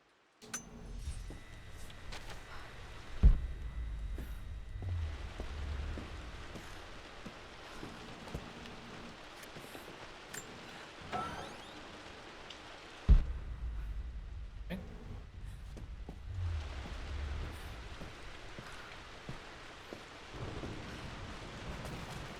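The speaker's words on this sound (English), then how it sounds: "Just want to lay out on the couch and listen to the rain." Steady rain from the video game Rise of the Tomb Raider pours down continuously, a dense hiss with distant thunder rumbling in a few heavy swells, with no talking.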